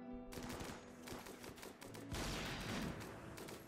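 Gunfire in RimWorld, a dense fusillade of rapid shots crackling steadily over a few seconds at a modest volume.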